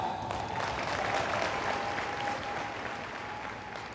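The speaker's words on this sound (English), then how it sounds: "You guys can applaud for that." Audience applause at a corporate sales event, a steady wash of many hands clapping that holds for several seconds with no talk over it, a faint tone running beneath.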